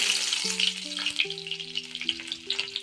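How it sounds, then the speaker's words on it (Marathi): Garlic crackles and sizzles in already-hot oil while cooking cauliflower manchurian, a steady bright frying hiss with small pops and stirring, with soft melodic background music running underneath. "आता पहिलं टाकू चला तेल पहिलंच आहे ऑलरेडी तर पहिला टाकू लसूण"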